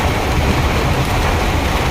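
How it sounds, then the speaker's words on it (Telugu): Steady, dense broadband wash of heavy rain on the way to a school, loud and constant without pause. "వర్షం అయితే ఫుల్ ఉంది, చూపిస్తాను చూడండి."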